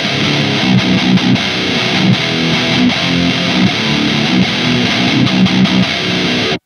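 Electric guitar played through a Klirrton Oh My Goat distortion pedal, dense heavily saturated riffing with a rhythmic chugging pulse, loud and continuous before cutting off abruptly.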